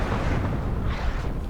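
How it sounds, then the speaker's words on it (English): Continuous rumbling barrage of mortar explosions in the video game Warno, loud and dense, with overlapping booms and no pauses between impacts. "Softening up the French position with mortar fire before the infantry arrives."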